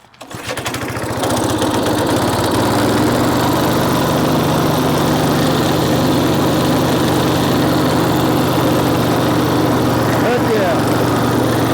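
Rare Lazy Boy riding mower engine sputtering to life, then settling into a loud, steady running drone close by.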